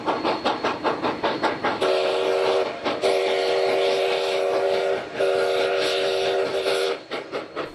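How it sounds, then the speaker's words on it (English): A Sierra Railway steam locomotive at Railtown 1897 near Quartz Junction chuffs in a rapid rhythm, then sounds its whistle in three sustained blasts separated by short gaps, close and loud. "Further up the line, the train passes through Quartz Junction, where the engineer and fireman begin sanding the flues."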